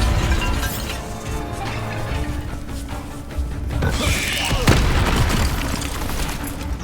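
A Bombarda blasting spell erupts in Hogwarts Legacy, a burst of booming, crashing impact noise that swells midway over a dense layer of game music and effects.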